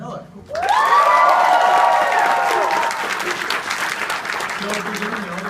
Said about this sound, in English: Alright, and now another round of applause for Big Jim Miller.